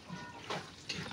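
One cup of water pours into a container for hot cake batter, a short close splashing trickle with two brief louder gushes in about a second.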